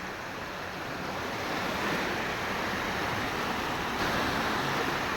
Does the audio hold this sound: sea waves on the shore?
yes